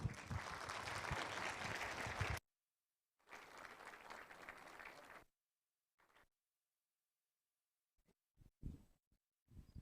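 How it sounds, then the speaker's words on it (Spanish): Audience at a Bible seminar in La Paz clapping to welcome a pastor, a dense burst of applause that stops, resumes briefly, then gives way to silence and a few scattered faint knocks. "recibámosle con un fuerte aplauso al pastor Ma Yung Wan"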